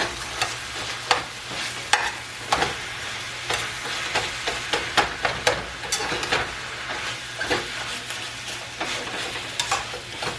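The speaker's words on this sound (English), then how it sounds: "you add a bit of pork. Doesn't have to be all pork. And we brown all of this." Ground pork and meat browning in a pan for spaghetti sauce, a steady sizzle and fry with frequent scraping stirs of a utensil, close up and without voices.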